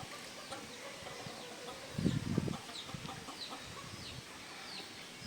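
Chickens cluck and chatter softly in the background of a poultry farm, with a brief louder burst of activity near the middle.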